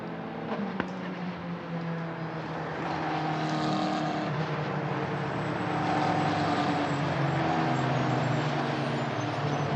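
Formula 4 single-seater race cars of the Italian F4 Championship cross the line behind the safety car at Mugello, a steady mid-distance engine drone that swells slightly toward the end, with no voices.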